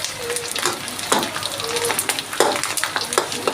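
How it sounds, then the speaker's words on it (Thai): Small squid frying in a hot pan, a steady crackling sizzle with repeated spatula scrapes and clatters close by and a faint voice in the background. "ทอดหมึกกระต่อยไว้ กินก่อน"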